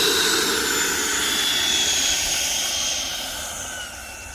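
An E-flite F-16 Viper 80mm EDF model jet roars past loud and close with a steady ducted-fan whoosh and whine, easing slightly in level toward the end.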